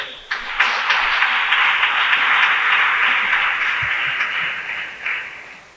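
A church congregation at a Passover celebration breaks into sustained applause, a dense wash of clapping that swells quickly, holds steady for several seconds and then tapers off, loud and filling the room.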